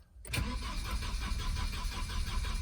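A Volvo 940 with a B230FT engine and a seized fuel pump cranks continuously without firing, a steady rhythmic churning starter sound after a short silence.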